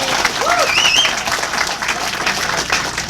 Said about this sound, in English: a round of applause for keeping you out of the rain